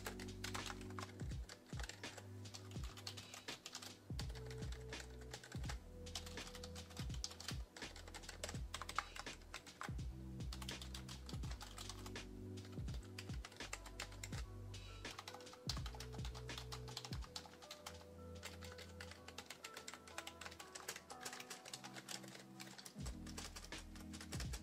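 Typing on a Lenovo ThinkPlus Preferred Pro keyboard: steady, fast clicking of keys in bursts with a few short pauses, quiet and close-miked, with no talk.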